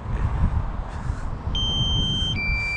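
A DJI Mavic Air drone sounds its low battery warning: two short high electronic beeps in succession over steady outdoor wind and motor noise.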